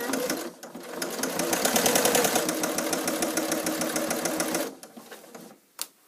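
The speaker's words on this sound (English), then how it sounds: "Just continue to sew." A sewing machine stitches the side seam of a fabric bag with binding, running in a steady fast mechanical rattle for about five seconds before stopping, followed by a few faint handling noises and a brief click.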